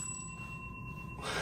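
A bicycle bell gives a steady, sustained metallic ring that holds evenly for about a second before a louder burst of noise cuts in.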